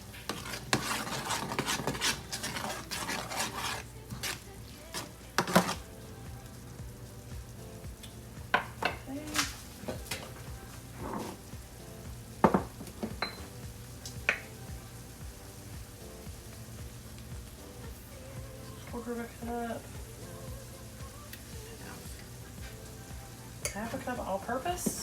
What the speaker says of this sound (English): Stir that real quick